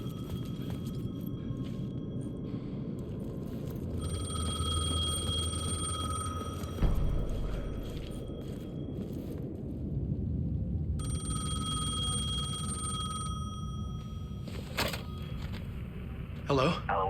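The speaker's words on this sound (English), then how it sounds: "The payphone was ringing." A payphone rings in the video game Alan Wake II, two long stretches of repeated electronic ringing over a low rumbling ambience, with a brief pause between rings.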